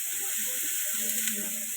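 Steady broadband sizzle of onions and green chili frying in hot oil for a dried fish stir-fry, with faint low voices murmuring underneath.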